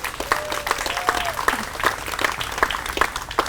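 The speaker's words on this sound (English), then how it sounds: "So we got to start by giving a round of applause for being here." A crowd at a city hall event in Greensboro, North Carolina applauds the introduction of a new pro sports team, with sharp individual claps standing out from the sustained clapping and a couple of brief whistles.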